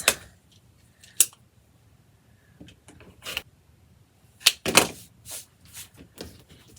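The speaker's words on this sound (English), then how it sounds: "We're gonna trim off this excess." Scissors trimming excess quilt fabric near a pieced triangle block: a few sharp, close snips scattered across the clip with quiet pauses between cuts.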